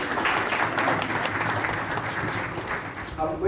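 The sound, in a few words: audience applause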